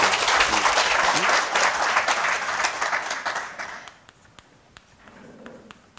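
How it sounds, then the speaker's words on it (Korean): Audience at a Buddhist sutra lecture gives a burst of applause that holds full for about three seconds, then thins out to a few scattered, isolated claps before falling quiet. "생각이시면 박수 한번 치시오."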